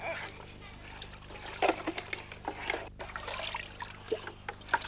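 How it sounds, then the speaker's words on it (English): Water tipping out of an upside-down jar and spilling off its edges during children's water play, a series of small splashes and dribbles under an ongoing voice. "if they turn the jar upside down, the water falls off the edges"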